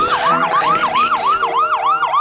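An ambulance siren effect in a rap track rises and falls in a fast, loud, repeating wail, about seven cycles over a couple of seconds, up close and alone.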